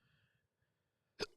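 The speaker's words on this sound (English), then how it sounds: "I got the hiccups" A single sharp hiccup bursts out near the end after a stretch of near silence with faint murmuring.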